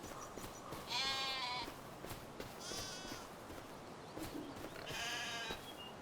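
A young goat on a farm bleats three times, with wavering cries spread across several seconds over a soft outdoor background, at moderate distance and fairly quiet.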